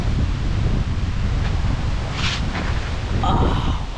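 Strong wind buffets the microphone in a constant low roar near the lighthouse at Los Rayos, Tagum City, with a few brief higher rustles.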